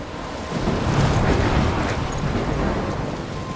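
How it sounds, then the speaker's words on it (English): Steady rain and rumbling thunderstorm ambience from the video game Life Is Strange, a continuous dense wash of noise that swells and holds without any voices. "I'm trapped in a storm?"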